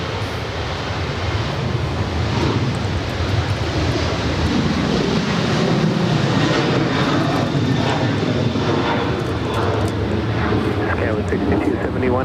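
Southwest Boeing 737-800 departing LAX, a loud sustained jet engine roar that swells and holds throughout, with wind buffeting the microphone and voices talking underneath.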